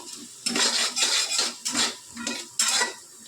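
A metal spoon stirs a spice mixture in a pan for a rohu fish dish, a series of close, rhythmic scraping strokes separated by short pauses.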